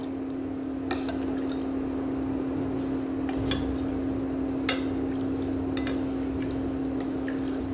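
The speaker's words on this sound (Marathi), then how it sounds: "10 मिनिट चांगल्या एका बाजूने तळून घ्यायच्या" Matar kachori deep-frying in oil, a low steady bubbling hum with faint crackles and a few sharp pops or spoon taps scattered through, close but quiet, no talking.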